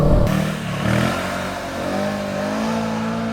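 A Kawasaki motorcycle carrying luggage cases revs hard as it lifts into a wheelie, the engine surging and rising in pitch, then holding at a steady drone close by.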